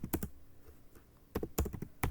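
Keystrokes on a computer keyboard as a command is entered at an Oracle SQL prompt on Linux: a quick cluster of clicks, a pause, then a second burst of taps, close and fairly quiet with no talking.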